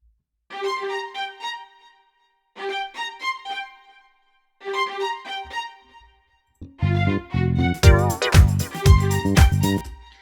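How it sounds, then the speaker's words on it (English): Staccato disco strings from a free Labs VST play three short repeated bursts of clipped, bright notes separated by gaps, then a fuller, louder passage with dense low layers joins for a busy final stretch. "It's these staccato strings."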